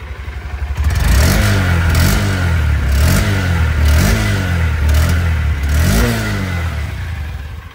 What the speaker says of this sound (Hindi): ये इंजन का साउंड है।